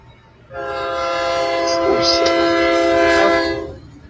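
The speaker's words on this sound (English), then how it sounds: "the train rolling by is blowing out everybody's audio" A train rolls by close and loud, its long horn blast holding for about three seconds, rising in quickly and trailing off, over faint room noise on a video call.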